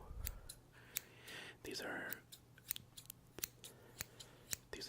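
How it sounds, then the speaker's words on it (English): Different pairs of scissors snip repeatedly with sharp metallic clicks, spaced irregularly, while a voice briefly whispers nearby in a quiet room. "testing out all the sounds that different scissors made."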